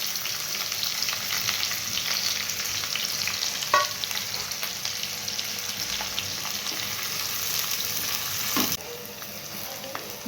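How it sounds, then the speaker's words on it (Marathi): Chopped onion frying in hot oil over a high gas flame gives a loud, continuous sizzle with faint stirring clatter. The hiss eases slightly near the end, and nobody speaks. "कांदा टाकून घेऊ।"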